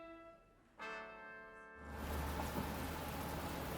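Rain begins falling in a steady hiss that swells after a couple of seconds into a dense, continuous downpour, moderately loud, following a low electronic hum at the start, with no one speaking.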